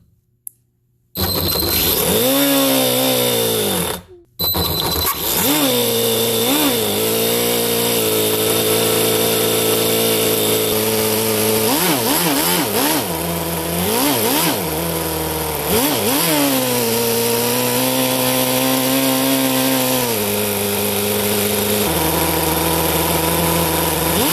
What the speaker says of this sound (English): let the engine cool down and do one more short test run while filming it with the thermal camera